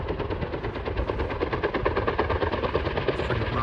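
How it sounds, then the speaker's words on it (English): A firefighting helicopter thumps steadily nearby while scooping water from a pond, its rotor producing a rapid rhythmic chop over a deep engine drone throughout. "that helicopter is getting water out of the pond here at Graves Mountain Lodge"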